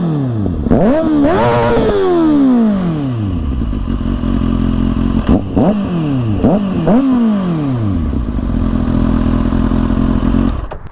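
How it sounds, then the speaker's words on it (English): Kawasaki ZX6R sport bike fitted with a LeoVince LV One EVO aftermarket exhaust, revved hard several times close by, each sharp rise falling back to a loud, rumbling idle between blips. "here's how it sounds with the LeoVince exhaust"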